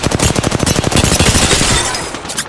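Rapid automatic gunfire from Apex Legends, a loud, dense burst of closely spaced shots that runs continuously before trailing off into reverberant decay.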